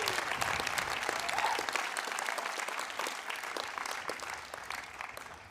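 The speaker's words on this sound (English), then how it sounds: "Lots of applause today" Large crowd at a university commencement ceremony applauding, a dense sustained clapping that stays loud throughout and fades slightly toward the end, with a faint voice briefly heard under it.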